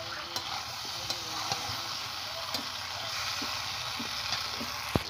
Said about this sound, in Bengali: সব কিছু একসাথে দিয়ে দেবো আর খুব ভালো করে আমি এর সাথে মিশিয়ে নেব।